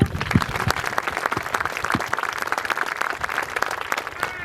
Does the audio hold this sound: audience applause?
yes